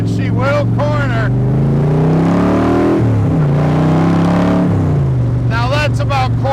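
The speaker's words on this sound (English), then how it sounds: "Now that's about quarter throttle right there. Really, really powerful car here" A 1965 Shelby Cobra Kirkham rumbles loud and close, its engine pitch climbing and dipping as it accelerates around a corner at part throttle, with a voice talking over it at the start and end.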